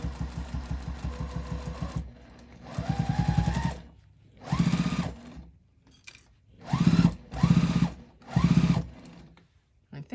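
A sewing machine stitching binding onto a pumpkin-shaped fabric hot pad, running in several short bursts of rapid mechanical whirring separated by pauses, close and clear.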